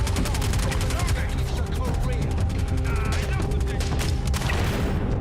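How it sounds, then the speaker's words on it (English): Rapid bursts of weapon fire from a grenade launcher in the video game Star Citizen, a dense run of sharp repeated shots and booms filling the clip, loud and continuous, with game speech mixed in. "Their grenade launcher worked."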